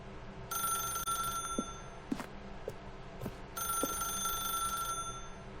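An old-style telephone bell rings in The Stanley Parable: Ultra Deluxe, sounding in two long trilling bursts separated by a pause, fairly faint over a low ambient hum.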